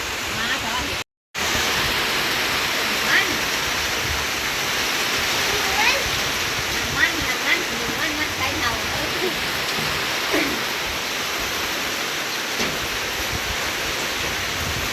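Heavy rain pours through the night during a storm, a dense, loud, continuous roar with a brief dropout near the start and faint scattered sounds above the wash.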